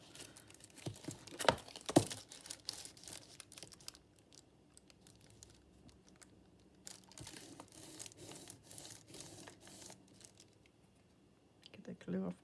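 Pianola paper folded by hand into a basic envelope, with soft crinkling and creasing rustles, a couple of sharper crackles early on, then quieter intermittent handling, close and faint, with a voice occasionally present.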